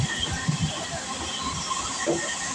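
A train at a railway gate, with goods wagons standing nearby, gives off a brief, steady rumbling hiss at moderate distance. The sound is fairly faint and continuous.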